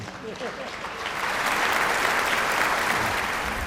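A crowd at a Mother's Day debate event in Vellakovil applauds, the clapping starting as a voice speaks over it and then swelling into steady, dense applause.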